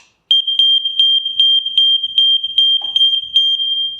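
An Aico smoke and heat alarm sounds close and loud, a shrill high tone that pulses rapidly and stays continuous after starting from silence, with a faint soft knock partway through.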